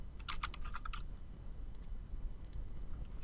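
Quick bursts of typing on a computer keyboard, a soft cluster of key clicks followed by a few isolated taps, close and quiet with no voices.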